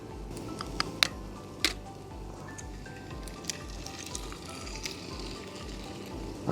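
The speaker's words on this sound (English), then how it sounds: "Let's get some eggs thrown into this mix" Eggs fry in a Ridgemonkey sandwich toaster outdoors with a soft, constant sizzle and occasional sharp pops and crackles, fairly quiet and close, with no talking.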